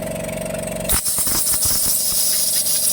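A sudden loud hiss of compressed air bursts from an air gun cleaning a Toyota Yaris engine during carbon cleaning and keeps blowing steadily, with faint rattling beneath it.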